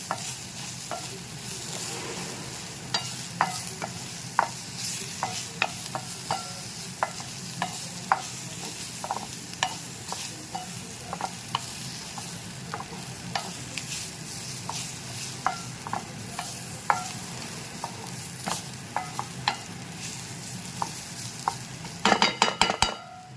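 Whole masala for mutton sukka roasts in a pan under a low, steady sizzle, while a spoon scrapes and taps the pan in repeated, irregular strokes, close and clear with no talk.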